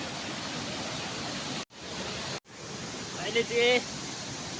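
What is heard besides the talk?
Irang waterfall rushing water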